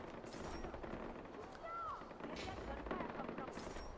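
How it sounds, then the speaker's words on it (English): Gunfire in the video game Far Cry 4 crackles faintly in the distance in scattered bursts, with a voice talking over parts of it. "I don't know what all this gunfire is."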